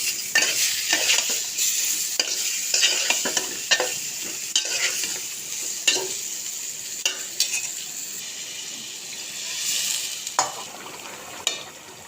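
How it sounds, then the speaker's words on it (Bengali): Taro being stirred and fried with kaju fish in a pan, a continuous close sizzle broken by repeated scraping strokes of a spoon against the cookware, heard alone without speech. "কাজু মাছ দিয়ে কচুমুখী রান্না করতেছি।"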